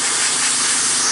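An airbrush sprays paint onto a model Rock Island hopper car, a loud, steady, unbroken hiss close up, with no talk.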